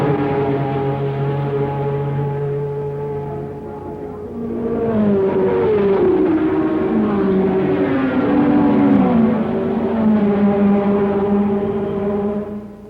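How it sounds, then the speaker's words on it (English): Gulf Porsche race cars circle the Spa circuit, their engines a continuous droning roar that drops briefly, then rises and shifts pitch as they pass, loud and unbroken across the clip. "The two Gulf Porsches took an immediate lead, staying out in front only 1 yard apart."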